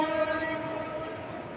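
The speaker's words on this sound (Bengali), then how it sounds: "ভালোই লাগলো ট্রেনের শব্দটা" A train rolls past on a sunny winter day, a loud, steady rumble with harmonic horn-like tones holding through the whole stretch, heard alone without talk.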